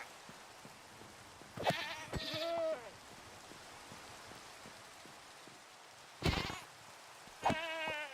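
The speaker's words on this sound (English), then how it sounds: "The goats are very cute," Goats bleat in the Minecraft video game, three separate wavering cries over a soft steady patter like rain, close and clear with no talking.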